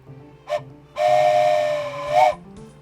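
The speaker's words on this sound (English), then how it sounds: "Train whistle." Train whistle from the video game OpenTTD, a brief toot followed by a sustained steady whistle that swells slightly before ending, clear and prominent over faint background hum.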